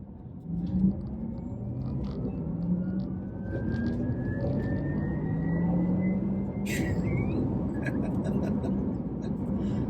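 A Porsche Taycan 4S electric car accelerates up a steep hill, its synthetic motor hum rising in pitch over a low road rumble and tyre noise, with a whistling electric tone gliding upward inside the cabin.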